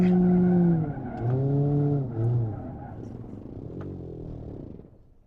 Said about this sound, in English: This engine does not have much left in it.